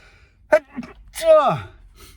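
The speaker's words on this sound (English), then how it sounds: "I'm going to sneeze." A single sharp sneeze bursts out after a quick intake of breath, close and loud against a quiet background.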